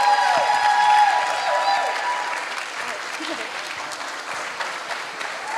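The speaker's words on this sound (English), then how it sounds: "Let's give them a round of applause." An audience at an annual school show applauds the women called to the front of the stage, a full steady round of clapping that starts strong and slowly softens, with a voice faintly audible over it.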